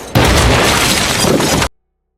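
A loud, roaring grenade blast in a film with breaking debris fills the air for over a second, then cuts off abruptly into silence.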